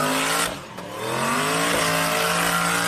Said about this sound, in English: My driver decided to do a load of donuts and burn the car out in the middle of the road